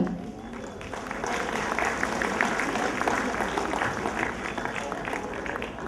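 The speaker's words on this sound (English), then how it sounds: "Their thundering applause will give them more and more confidence." A large audience at a kindergarten annual function prize-giving claps steadily and continuously, a dense, even wash of applause that holds its level throughout.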